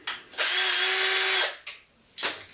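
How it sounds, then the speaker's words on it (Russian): A cordless screwdriver used to assemble a new string trimmer gives one sustained high whirring run of about a second, then a short blip and a final brief burst, close and loud. "Я буду пользоваться шуруповертом, чтобы побыстрее все это вам показать."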